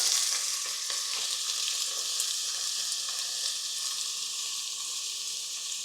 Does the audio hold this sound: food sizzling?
yes